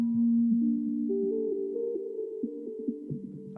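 Synthesizer lead voice from a keyboard's bank B with added effects, playing a short legato melodic line of gliding, sustained pitched notes with a reverberant tail, alone with no talk.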